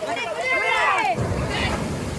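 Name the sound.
sea waves crashing near fishing boat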